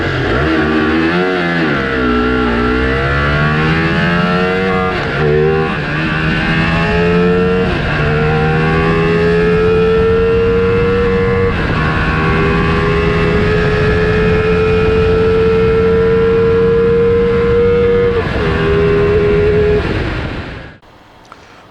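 A Ducati Multistrada V4S motorcycle's V4 engine runs loud and close for about twenty seconds, revving up and down through several rises before settling into a steady high idle and then cutting off abruptly.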